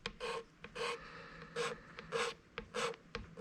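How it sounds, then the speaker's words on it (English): A scraper drawn along a guitar fingerboard to smooth it, six rhythmic rasping strokes with short pauses between, close and fairly quiet, with no talking. "you can scrape it smooth, and it almost polishes"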